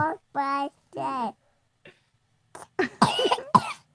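A few harsh coughs burst out near the end, loud and close, after some voiced sounds at the start.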